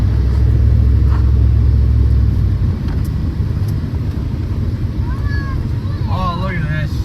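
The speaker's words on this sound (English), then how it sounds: "Oh, look at this beautiful truck." Pickup truck driving and spinning on snowy grass, a heavy low engine rumble that dominates early and then eases into rougher churning, with squealing tones near the end.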